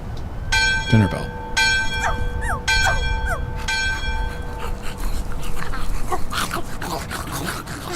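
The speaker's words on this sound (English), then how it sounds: "Dinner bell." A dinner bell in the video game My Friendly Neighborhood rings in several loud, resonant strikes with long ringing tones, over busy background noise with whimpering and vocal sounds.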